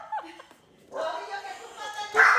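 A puppy yips, whimpers and whines in short bursts close by, with people talking around it in a home.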